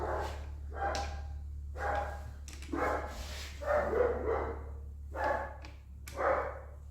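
A dog barks repeatedly nearby in short bursts of several yaps, over a steady low hum in a workshop where a Chrysler Valiant engine is being rebuilt.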